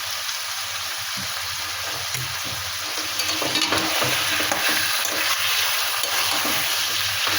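Salted chicken is stir-fried in a pan, a close, continuous crackling sizzle with scraping stirs that grows slightly louder midway, with no voices.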